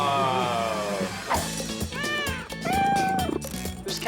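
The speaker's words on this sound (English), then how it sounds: "cats everywhere in this place." Several cats meow repeatedly in a Tokyo cat café, their rising and falling cries close and loud over a busy, clattering room background.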